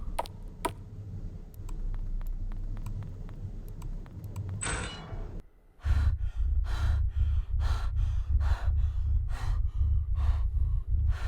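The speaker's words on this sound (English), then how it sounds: "I hear some heavy breathing going on." Heavy breathing in the video game Cohabitation that turns steady and rhythmic, each breath a short loud pulse, after some quieter rustling and ticking.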